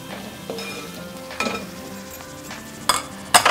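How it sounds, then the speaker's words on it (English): Masala with Kashmiri chili powder and coriander frying in a pan for Malabar roast chicken: a low sizzle broken by several sharp metallic clinks and scrapes of a spoon against the pot. "Let the masala fry."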